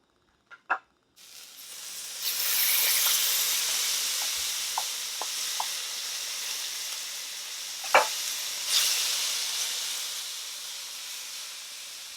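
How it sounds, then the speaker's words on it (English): Loud, steady sizzling of sesame-oil-marinated meat frying in a hot pan for bibimbap, starting after a couple of clicks, with a few small knocks and clinks over the hiss. "I just love the noise of sizzling meat."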